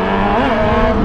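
A Yamaha Fazer 600 motorcycle accelerates, its engine note loud and close, rising briefly in pitch in a single short burst without talk.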